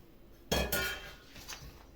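Eggs and milk being mixed in a bowl for a cherry jam pie batter, two sharp clinks of utensil against the bowl followed by softer scraping taps, close by, with no speech.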